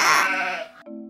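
A sheep lets out one close, loud bleat with a wavering, nasal tone that fades within a second, heard alone with no talking.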